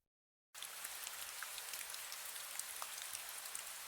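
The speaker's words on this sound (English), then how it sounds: "White noise is like gentle, steady sound." Steady white noise resembling rain on a window starts abruptly after a brief silence, then continues as an even, soft hiss with faint scattered droplet-like ticks, heard alone without any voices.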